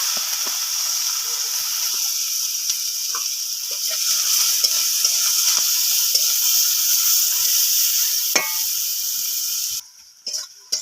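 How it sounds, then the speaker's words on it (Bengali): Chopped onion frying in the oil left from frying pangas fish, a continuous close hiss and sizzle with faint scattered pops before it drops away near the end. "মাছের তেলের মধ্যে পেঁয়াজ দিয়ে দেবো।"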